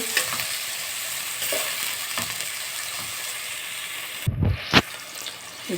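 Onions frying in hot oil in a pan, being stirred steadily, with a continuous close sizzle and a few sharp scrapes and clatters of the spoon near the end.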